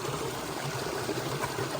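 A river in Jamaica flows on a morning riverbank, a continuous close rush and trickle of water, steady and unbroken with no voices.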